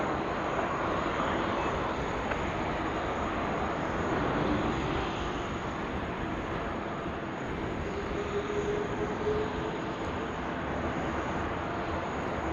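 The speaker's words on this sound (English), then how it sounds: "Beautiful, Garuda coming into land" A Garuda airliner coming in to land at Sydney Airport: a steady, broad engine roar held at an even level throughout, heard from a distance with no talk.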